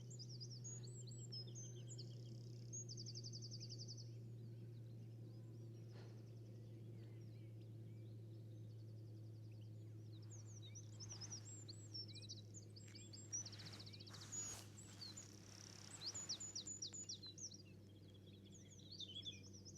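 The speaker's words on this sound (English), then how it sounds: "So there's a goldfinch, but I can't see where it is." Goldfinch singing on the chalk downland of Ventnor Downs, Isle of Wight, thin twittering and trilling phrases coming and going at a distance over a steady low hum of wind or traffic, faint, with no talking.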